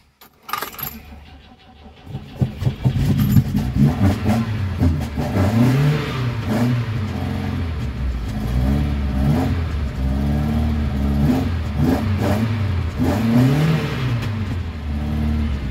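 Cold start of a BMW 2002 E10 with twin Weber 45 DCOE carburetors: a jangle of keys and cranking, then the engine catches and settles into a loud, steady, slightly lumpy idle with a few rises in revs, close by.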